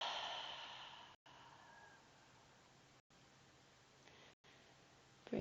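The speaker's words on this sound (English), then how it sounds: "Deep inhale through the nose, filling all the way up. Open mouth exhale." A slow, open-mouthed exhale during a yoga breathing exercise, a soft breathy rush that is strongest at the start and then fades to a faint hiss, heard alone in a very quiet room.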